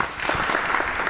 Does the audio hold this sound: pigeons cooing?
no